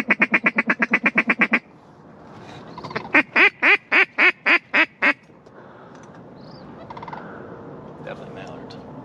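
Mallard ducks call in a Wisconsin hunting marsh: a fast run of about a dozen sharp quacks, then a slower series of seven loud, drawn-out quacks, followed by fainter scattered calls.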